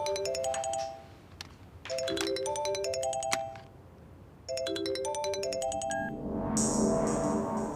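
A telephone ringtone plays in repeated electronic melodic bursts with short pauses between them, clear and fairly close, with some room noise rising near the end and no talking.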